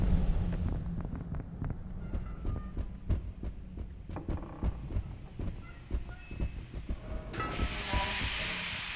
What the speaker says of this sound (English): Watch out for that steam.